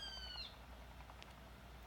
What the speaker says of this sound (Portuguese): Tem um passarinho gritando ali